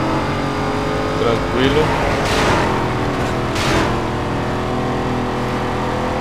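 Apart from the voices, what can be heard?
Chevette with Mustang engine revving, Need for Speed Most Wanted video game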